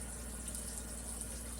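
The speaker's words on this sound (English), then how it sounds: "Oh wow, running water in the boat" Water runs steadily from a tap aboard a narrowboat, a constant faint hissing flow alongside a low pump-like hum, with no talk.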